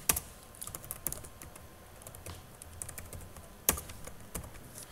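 Fingers tap on a computer keyboard while a program is being written, with quiet, irregular keystrokes and a few sharper clacks, close and alone with no talking.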